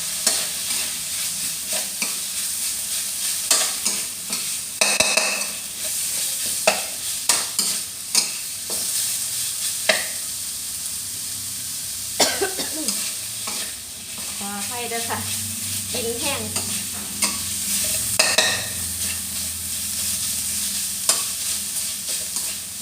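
Beef stir-fried with curry paste in a pan sizzles steadily for over twenty seconds, with repeated scraping and clanking of a utensil stirring the meat, close and fairly loud, with no talk.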